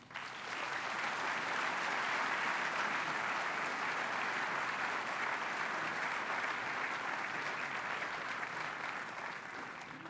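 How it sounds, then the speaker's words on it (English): Steady, sustained audience applause at a Clinton Global Initiative 2010 session, a dense wash of many hands clapping that swells quickly and holds at an even level for about ten seconds without voices. "Let's give them a big hand."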